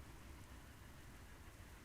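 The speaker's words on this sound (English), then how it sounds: "It's raining a lot!" Heavy rain pours in the World of Warcraft zone of Ashenvale during a thunderstorm, a constant dense hiss with a low rumbling undertone, quiet and even throughout.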